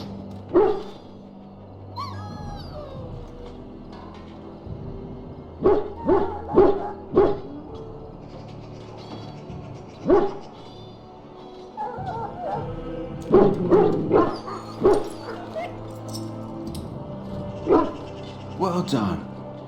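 A dog in the fantasy game Dragon Age: Origins gives repeated yips, whimpers and short barks in clusters, fairly close, with game characters talking around them.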